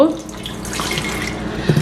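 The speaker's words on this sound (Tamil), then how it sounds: "இந்த தண்ணி இதில் விடுங்க" Water pours steadily into a bowl of tamarind for tamarind porridge, a brief, full splashing stream lasting a couple of seconds, close by.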